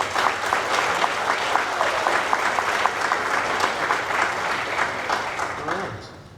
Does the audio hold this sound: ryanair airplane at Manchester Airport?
no